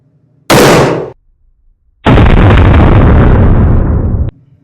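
A Ruger RXM pistol fitted with an Icarus Ace grip module fires at a range, producing a very loud, close blast, a brief silence, then a longer sustained burst of rapid shots.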